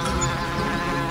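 Bees buzz close and steady in a short burst from a French-language animated fairy tale, a continuous droning hum with no voices over it.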